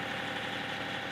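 A tractor with an intake manifold pressure fault idles while warming up, giving a steady, even engine rumble with a faint knocking pulse underneath, close and constant with no talk.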